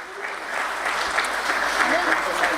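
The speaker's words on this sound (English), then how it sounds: "can we have a louder round of applause everyone?" A crowd at a BSE share listing ceremony for Adon Agro Commodities Limited applauds in a dense, continuous round of clapping that fills the room and holds steady throughout, with a voice faintly audible beneath it.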